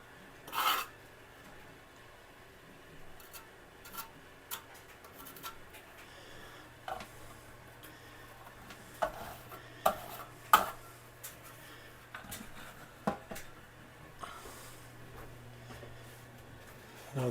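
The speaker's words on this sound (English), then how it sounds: "I think it's just a standard V-notch trowel" A standard V-notch trowel scrapes and spreads tile adhesive for a shower tile job, giving quiet, intermittent rasping strokes and small clicks against a low steady background hum.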